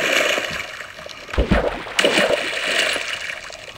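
Water splashes and gurgles in a Minecraft sea-water scene, a soft watery wash rising into a few brief splashes near the middle, moderately close with no talking.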